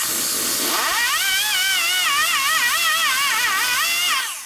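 Rotary tool porting a 2005 Harley-Davidson Sportster XL1200 cylinder head, a loud high-pitched grinding whine that wavers in pitch as the bit moves back and forth, close and continuous.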